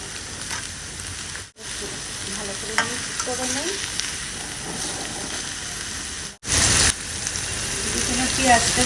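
Onions and green chilies fry in a pan with a steady sizzle and hiss. Stirring scrapes and clatters through it, and there are two short breaks and quiet speech in the background.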